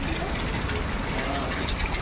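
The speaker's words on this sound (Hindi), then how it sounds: "देखिए कितनी तेज पानी गिर रहा है छत से।" Heavy rainwater pours off a house roof during a downpour, a dense, steady rushing gush of falling water filling the whole moment without any voice.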